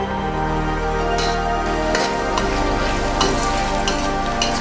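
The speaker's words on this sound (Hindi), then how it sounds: "ग्रीन चिली ऐड कर देंगे।" Green chilies go into a pan of chicken jalfrezi and sizzle steadily at close range. The frying runs continuously, with light stirring scrapes throughout.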